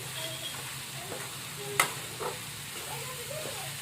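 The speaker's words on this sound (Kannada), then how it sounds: "ಎಲ್ಲ ಕಡೆ ಮಿಕ್ಸ್ ಮಾಡ್ಕೊತೀನಿ ರೀ ತಿರುಗಾಡ್ತೀನಿ ಎಲ್ಲ ಕಡೆಗೆ" Pulao is stirred and mixed in a pan, with a low continuous sizzle, soft scraping and one sharp metallic clank from the spoon partway through.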